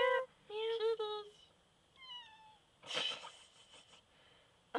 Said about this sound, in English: Hey, look up! Kitties!